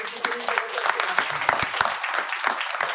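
Scattered, uneven clapping from an audience at a Bhagwat Katha religious gathering, sporadic claps heard under singing voices rather than a full round of applause.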